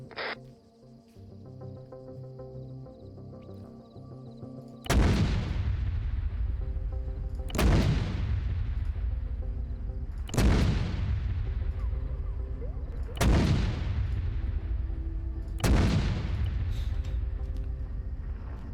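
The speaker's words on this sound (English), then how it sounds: "let's mortar the shit out of that compound" A mortar barrage strikes a compound in a military video game: five heavy, booming impacts land about every two and a half seconds, each one loud with a long rumbling decay.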